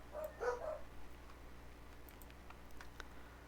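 Dogs at home bark in one short, faint burst near the start, then fall quiet under soft room tone with light ticking.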